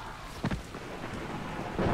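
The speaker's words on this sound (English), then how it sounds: "Why does it always rain every game we play?" Heavy rain hisses steadily in the video game Dying Light, with a couple of brief rumbling thunder-like bursts under the downpour.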